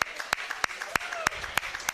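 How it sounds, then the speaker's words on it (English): Audience applause at a live podcast taping, heard as sparse individual claps spaced unevenly over a steady crowd murmur, fairly light rather than a full ovation. "how about a round of applause for the folks from Harpo's?"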